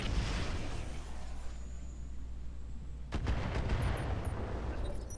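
Mech weapons fire in a Roguetech BattleTech game, a rumbling barrage followed by a sharp loud impact burst partway through, then further cracking blasts and scattered pops.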